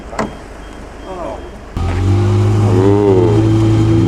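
Lexus LFA engine revving loudly nearby at an outdoor concours d'elegance car show, a sudden roaring start followed by a sustained rising rev, with brief voices before it.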